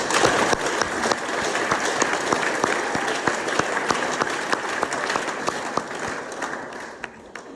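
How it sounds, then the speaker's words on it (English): Applause from the audience at an AA speaker meeting for the evening's speakers, a sustained dense roar of clapping from a room full of people with a few sharper claps standing out, tapering slightly at the end. "Let's give tonight's speakers another round of applause."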